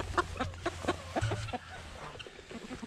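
Backyard chickens cluck in a quick run of short, close calls, then trail off into quieter scattered clucks from the flock.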